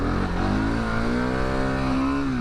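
A 701 big bore dual sport motorcycle engine pulls hard under acceleration, its loud close drone climbing steadily in pitch and holding a strong rising tone throughout.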